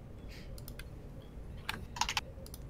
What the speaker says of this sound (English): Cat trying to walk over the keyboard.